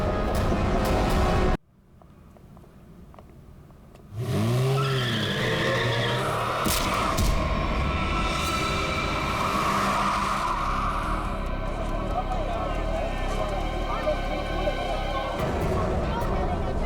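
A car driven recklessly screeches as its tires skid, a loud squeal rising after a brief drop to near silence, followed by a sustained engine roar and tire noise under shouting voices.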